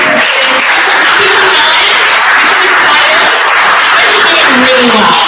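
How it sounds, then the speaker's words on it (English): A short round of audience applause fills the room at a mobility candidate forum for Seattle City Council District 5, a dense, steady patter of clapping close by. "a little round of applause is fine"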